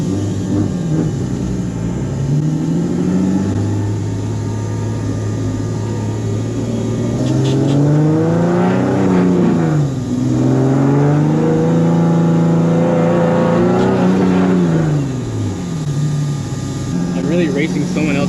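Turbocharged car accelerating hard during a race, engine note rising and falling in long sweeps from inside the cabin, loud and continuous, with a driver talking over it.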